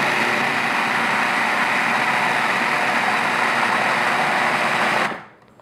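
A blender purees peaches in a loud, continuous whir that runs steadily for about five seconds, then cuts off abruptly into near silence.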